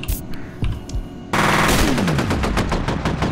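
Rapid automatic gunfire in the first-person shooter F.E.A.R., starting after a few scattered shots and then bursting into a loud, sustained stream of closely spaced shots.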